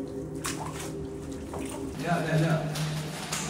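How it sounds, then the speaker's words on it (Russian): Rushing water flowing through a flooded metro tunnel under Kyiv, a steady broadband wash that swells louder midway, with people talking and exclaiming over it. "Слышь, шум воды уже спереди идет."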